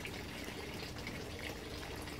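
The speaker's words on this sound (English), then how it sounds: "the air pump, the earthstone, is going to circulate the water inside and keeping the water fresh" An air pump and air stone in a fogponic plant cloner circulate the water with a steady, close bubbling and fizzing wash of liquid, continuous and even throughout, with no talking.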